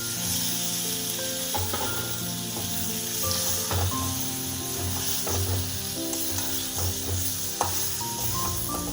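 Fried potato, cauliflower and tomato sizzle in hot oil with spices in a home kitchen. A steady, moderately loud frying hiss runs throughout, broken by scraping and clinking utensil sounds as the pan is stirred.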